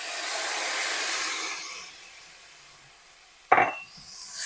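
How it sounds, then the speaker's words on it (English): Tomato juice goes into a hot pan of thyme and rosemary on medium-low heat. A loud sizzling hiss fades to a low simmer, then a sharp clank of cookware brings the hiss back up. "And then in is going to go my tomato juice."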